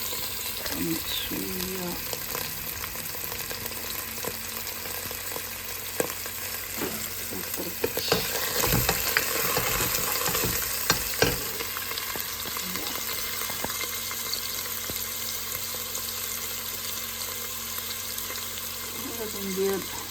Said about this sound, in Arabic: يلا حنا درنا الزيت ديالنا في الطاوه، درنا الكمون، غنديرو البصله مع الثومه